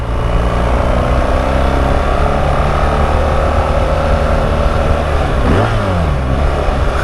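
A loud BMW R 1300 GS motorcycle engine roars continuously at close range through its exhaust, its pitch rising and falling as it revs.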